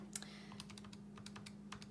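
Calculator keys pressed in a quick, irregular run of light clicks over a steady low hum, close and fairly quiet, with no one speaking.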